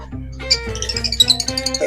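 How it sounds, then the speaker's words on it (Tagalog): Many birds chirp in quick, bright bursts at a village fiesta in Quezon Province, the calls close and overlapping over a low background hum. "Ang daming ibon oh."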